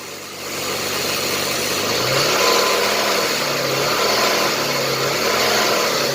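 An old car engine idles with a rough, steady rumble, then the revs rise and fall in gentle swells, close and continuous with no talking.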